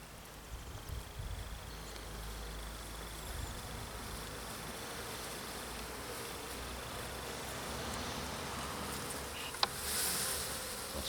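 A swarm of hybrid honey bees hums continuously during a late-season swarm rescue in Nuits-sur-Armançon, France, a thick, even buzz up close, with a faint click near the end and no voices.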